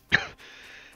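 A single short, close cough or throat-clearing at the start, then a faint steady hiss.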